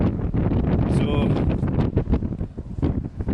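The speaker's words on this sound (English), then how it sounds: "It's just windy, it's not wet." Strong wind on a beach on the Hebridean island of Benbecula buffets the microphone in a loud, steady roar with gusty swells, close up, and a voice speaks briefly through it.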